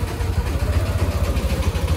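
A motorcycle engine running at idle nearby, a loud steady low thrum with an even, rapid pulsing beat throughout.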